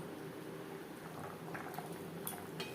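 Hilsa fish curry with eggplant and fish heads simmers in gravy on a gas stove, giving a soft, steady bubbling with small irregular pops and gentle liquid gurgles.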